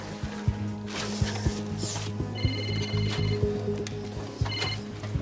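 A mobile phone rings in a hospital emergency-room scene, with short bursts of electronic ringing repeating over a busy hum and scattered thumps and clatter.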